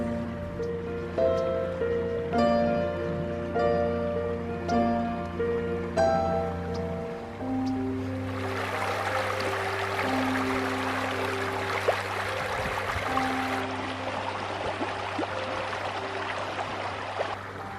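Water on the Salt River in Arizona rushes steadily from about the midpoint onward, a broad close-up hiss with no talk. Before it comes a stretch of sustained musical tones.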